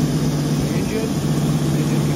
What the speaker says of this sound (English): the engine condition running